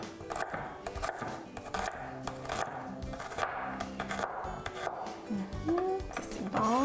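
A knife chopping garlic cloves on a board for spinach and ricotta lasagne, with quick, uneven taps over a steady bed of background music.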